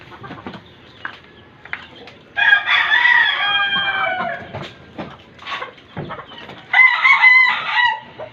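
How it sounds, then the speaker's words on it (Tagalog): Pet chickens on a farm cluck steadily at moderate distance while a rooster crows twice in loud, drawn-out bursts that stand out above the background clucking; no talking. "Tingnan mo yung alaga kong manok guys,"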